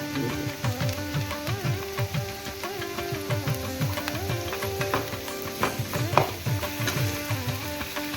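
Vegetables sautéing in a pan with ginger and garlic, a steady sizzle with rhythmic stirring scrapes recurring every fraction of a second throughout.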